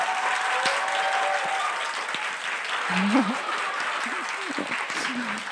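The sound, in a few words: congregation applause of encouragement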